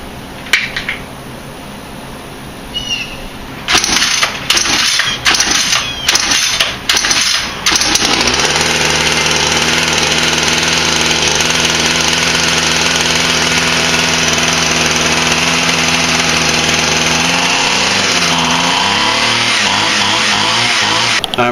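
A gas string trimmer with a broken switch, choked by hand, is pull-started with a few sputtering attempts and then catches, running loud and steady up close with the engine pitch dipping near the end.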